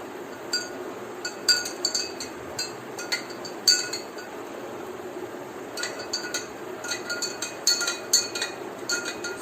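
Salt is stirred into water in a glass beaker, giving a series of close, light irregular clinks and taps against the glass over a soft background hiss.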